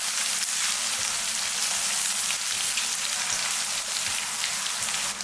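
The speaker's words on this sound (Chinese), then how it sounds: "再把姜蒜、小米辣加进来，翻炒均匀，炒出香味" Ginger, garlic and small chili peppers are stir-fried in hot oil in a home kitchen, giving a loud, steady sizzle and crackle that holds throughout with no break.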